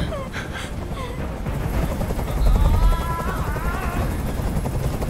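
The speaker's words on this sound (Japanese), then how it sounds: "あの音おかしくなりそうだ。 あのヘリコプターをどこかにやってくれ。" A helicopter in the video game Detroit: Become Human thrums with a low, rapid rotor chop that swells louder midway, under game dialogue and sparse sharp effects.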